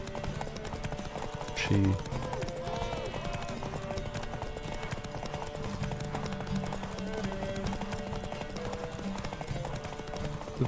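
Roach the horse gallops in a Sekiro speedrun, a steady clip-clop of hooves running under game music, with a brief louder thump early on and someone talking over it.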